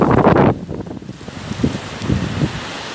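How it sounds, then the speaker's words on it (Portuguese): Strong wind during a sandstorm in Dourados, Brazil, buffets the microphone in loud, rough gusts: a heavy blast at first, then uneven surging whooshes that rise and fall. "Olha, olha o vento."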